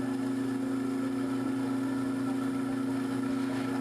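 A faceting machine with a 600-grit new bond lap cutting a tiny Montana sapphire gives a steady, even motor hum with a constant tonal whine, unbroken from start to end.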